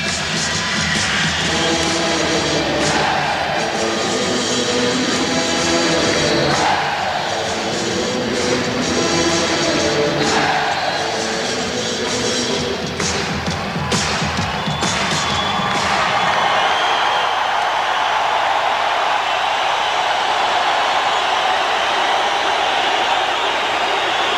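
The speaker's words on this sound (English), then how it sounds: "Chicago on a run, and their fans are up and stomping and clapping" Basketball crowd at Chicago Stadium roars with rhythmic stomping and clapping during a Bulls run against the Pistons, a dense, loud wash of cheering that thins near the end.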